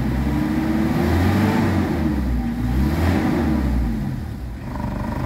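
A Mitsubishi Adventure with low power revving near 3,000 RPM: a loud, close, sustained engine roar with wavering pitch, easing off slightly toward the end, no talking.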